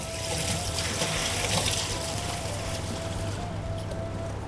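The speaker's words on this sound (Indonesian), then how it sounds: "Kita buang aja airnya." Water soaked with dried chilies is poured away in a continuous splashing, gushing stream with a faint tonal ring, steady and close throughout.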